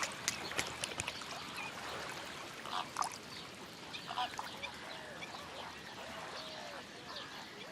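Wetland birds in the Camargue, with flamingos among them, honk and call at a moderate distance over a steady trickle of water, with scattered louder calls and no talking.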